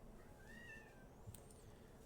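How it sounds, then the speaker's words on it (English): A cat gives a faint, drawn-out meow followed by a shorter one, muffled from behind a closed door in an otherwise quiet room. "my cat. I'd let him in, but he doesn't know how to act. So he has to stay on the other side of the door and meow"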